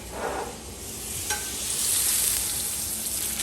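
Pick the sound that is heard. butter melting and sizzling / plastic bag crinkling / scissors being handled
butter melting and sizzling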